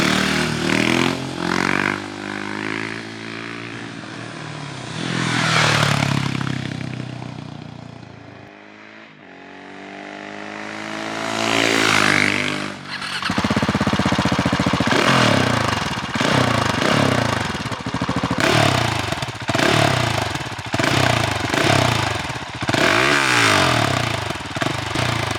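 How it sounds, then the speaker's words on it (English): A Husqvarna 701 motorcycle with a new aftermarket exhaust, dB eater removed, rumbles deeply, revving up and easing off in several waves, loud and close, with a throaty exhaust note throughout. "you get this rumbling that's very seldom with the newer bikes"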